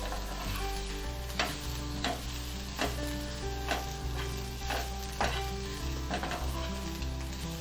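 Fish fries in a pan as a continuous soft sizzle, broken every second or so by a sharp scrape or clink of stirring, close and without talk.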